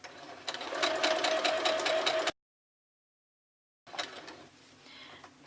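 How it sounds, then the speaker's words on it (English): A sewing machine running a long basting stitch across a pillow cover, a steady rapid whirring with needle clatter for about two seconds, then a pause and a quieter second burst. "increase my stitch length so that I have a basting stitch. I'm going as long as my stitch length will allow me to go"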